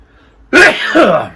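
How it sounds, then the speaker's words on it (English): A single loud, sudden sneeze up close, a sharp burst followed by a trailing breathy release. "I'm going to sneeze."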